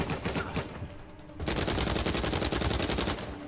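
Rapid gunfire from a firefight in the video game Uncharted 4, starting as scattered shots and then turning into a loud, dense burst of fast repeated bangs that runs steadily for about two seconds before easing off.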